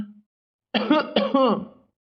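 Cough from a Kannada cartoon character, a short cleared throat followed by two voiced coughing bursts, loud and close against silence.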